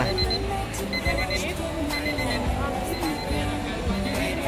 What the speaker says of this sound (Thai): นาฬิกาปลุกเหรอเนี่ย ปลุกเนี่ย เดี๋ยวเจ้านี่ปลุกปะ